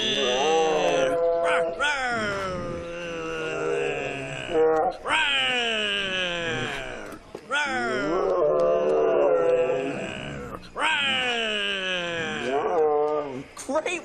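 Several people imitate tiger roars in long, loud, wavering growls and moans, one after another with brief gaps between.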